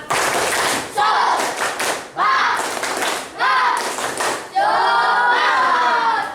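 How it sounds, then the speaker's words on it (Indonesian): A classroom of students performs a rhythmic group spirit clap in bursts: several loud, sharp clapping patterns separated by brief pauses, with voices chanting and shouting along between and over the claps. "Coba tepuk semangat dulu"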